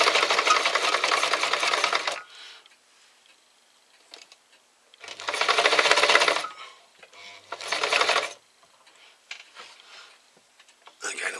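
A sewing machine stitches a fabric pouch in three close, steady bursts of rapid mechanical whirring, separated by quieter pauses with faint handling noises.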